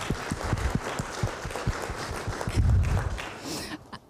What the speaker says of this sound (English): give them a round of applause for being here